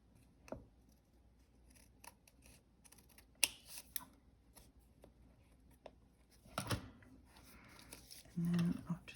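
Scissors make a few scattered snips trimming a paper wrapper for a chocolate bar, soft and close, with quiet handling rustles between them.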